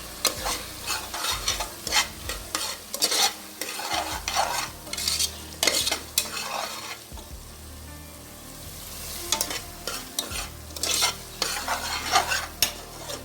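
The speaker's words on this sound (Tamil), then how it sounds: "கொஞ்சமாக மஞ்சள் இதை நல்லா கிண்டி விட்டுக்கலாம்" A spoon stirs cumin powder and turmeric into hot oil in a frying pan, giving repeated scraping strokes over a steady sizzle, with a short lull in the middle before the stirring resumes.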